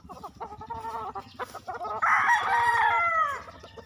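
Chickens and roosters from a backyard breeding flock, scattered clucks at first, then a loud, close rooster crow rising over the clucking near the end.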